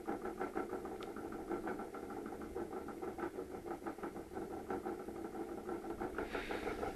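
A small motor spins the colour wheel of a field sequential two-colour camera system, giving a faint, steady whirring hum with a regular pulsing flutter that runs unbroken.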